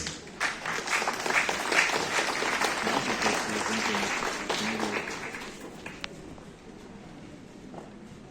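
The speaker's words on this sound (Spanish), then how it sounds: "Recibamos con un aplauso a Pilata Rubén." Audience applause for a speaker at a university talk on Aymara technology terms, a steady burst of clapping that fades over several seconds.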